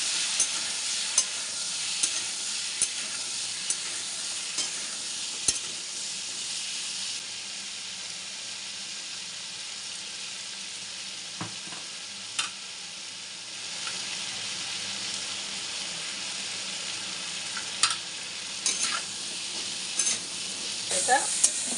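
Taro (gathi kochu) frying in a pan makes a bright, constant sizzle, with scattered clicks and taps from stirring, heard close up with no talk.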